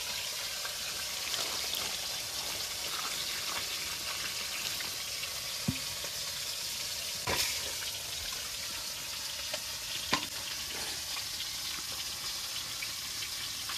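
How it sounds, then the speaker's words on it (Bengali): Small river fish fried in a pan, a steady soft sizzle and crackle running the whole time at low level, with a few faint clicks and taps; no one speaks. "মাছটা আর এক পিঠ ভাজা হতে থাকবে।"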